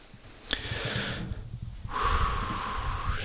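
Slow, deep breaths during a guided body meditation: a long audible inhale, a pause, then another strong breath, close to the microphone with no talking.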